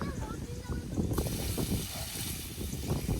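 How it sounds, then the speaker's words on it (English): Rainwater from a bucket poured over a backyard worm farm, a close splashing trickle that swells after a second into a steady broadband wash, with people talking over it. "Dad's just going to water the wormies in."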